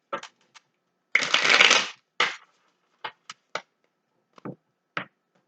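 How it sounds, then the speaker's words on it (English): Tarot cards are shuffled by hand, close up: quick riffling bursts, one longer rustling shuffle, and scattered soft taps in a quiet room. "All of my cards are already pre-shuffled. I just shuffle a little bit for you on camera."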